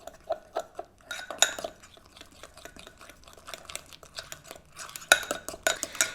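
A utensil clinks and scrapes against a bowl while shrimp taco ingredients are mixed, in bursts of quick rhythmic stirring separated by short pauses, close and fairly quiet.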